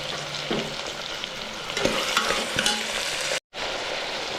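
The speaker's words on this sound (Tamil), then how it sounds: "நீல வாக்கில் கட் பண்ணி வச்சுருக்கிற தக்காளியை சேர்த்துட்டு நல்லா கலந்து விட்டுடலாம்" Sliced tomatoes are stirred and fried in a pan for vegetable pulao, producing a loud continuous sizzle with scraping stirring strokes and a brief break in the sound near the end, with no talking.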